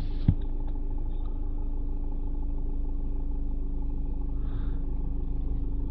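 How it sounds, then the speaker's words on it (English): A car's engine cranks briefly and then settles into a steady idle, a low continuous rumble that holds evenly throughout with no voices. "start the car up."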